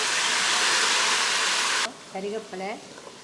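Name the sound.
tomatoes sizzling in sesame oil with asafoetida, mustard, fenugreek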